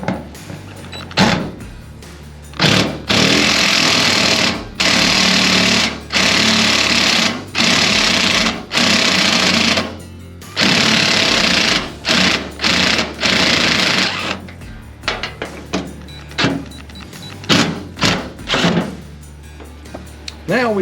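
A loud power tool drives Torx bits on a GM truck, running in repeated bursts of a second or two separated by short pauses, close up with faint talk in between.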